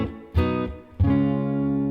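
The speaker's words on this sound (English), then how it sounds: "I've often talked about the flat 6, flat 7 to 1 resolution" Two sustained synthesized chords in a video game music style, the flat six then flat seven resolving to the one chord, each struck cleanly and ringing out, the second held longer.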